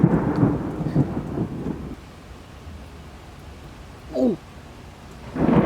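Thunder rolling through a severe thunderstorm in New Jersey, a loud low rumble at the start that fades, then a brief exclamation, and a fresh rumble building at the end.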